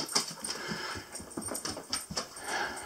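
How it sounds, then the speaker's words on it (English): Dogs race back and forth indoors in a cluttered room of an off-grid house under construction, paws and claws pattering on the floor amid small whimpers and panting, close and busy with no talking. "Dogs are running back and forth, being crazy."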